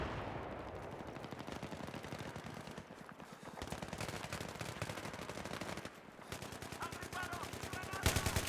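Rapid automatic gunfire bursts in Battlefield 3 multiplayer, dense rattling volleys with brief pauses around the third and sixth seconds, fairly loud and continuous, with no talk over it.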